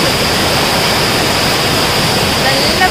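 Blappila waterfall in Konni rushes as a loud, steady broadband roar of falling water, close and unbroken throughout with no voices.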